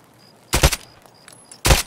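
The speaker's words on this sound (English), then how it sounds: "That's me shooting." Two short bursts of suppressed drum-magazine Glock gunfire in a shooter game, each a quick cluster of sharp shots about a second apart, loud against a quiet background.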